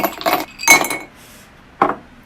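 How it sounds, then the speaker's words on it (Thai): Ice cubes are tipped into a glass for dalgona coffee, giving three sharp, bright clinking bursts up close with short pauses between them and no voices. "ต่อไปมาเทน้ำแข็งกัน"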